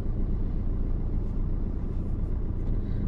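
A 2019 Maruti Ertiga 1.5-litre diesel drives along a road, its engine and tyres making a steady, dense rumble heard from inside the car, with no talking.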